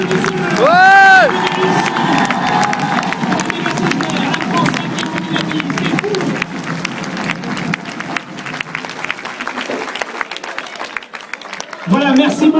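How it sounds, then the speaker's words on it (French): A cinema audience at a live appearance applauds and cheers loudly for several seconds, with shouts and whoops over dense clapping that thins out toward the end. "merci beaucoup Rémi, vous pouvez continuer à applaudir, à le féliciter"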